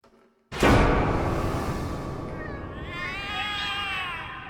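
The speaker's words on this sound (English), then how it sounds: "The cats are alarming." Cats in The Cat Lady horror video game break into loud, overlapping meows and caterwauls after a sharp onset, with wavering cries continuing close and alone to the end.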